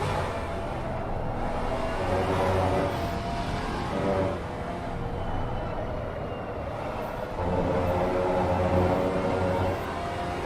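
Maserati GT4 race car in a sim racing game, its engine droning steadily at middling volume through the whole stretch with slight swells in pitch and level, no voices over it.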